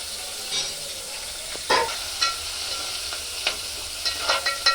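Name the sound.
frying onions and green chillies for bagara rice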